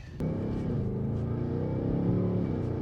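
Ford Mustang GT with a V8 engine drives along, heard from inside the car as a steady low rumbling drone after a brief click, holding at a moderate level without talk.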